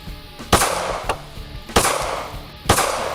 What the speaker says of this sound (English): When I say go, I want you to shoot all 5 rounds.